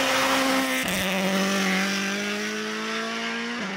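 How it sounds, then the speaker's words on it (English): A rally car on a snowy forest stage at Rally Sweden, its engine droning loud and steady close by, with two sharp gear-change dips in pitch as it passes. "Oh, I hear a car. I hear a car coming."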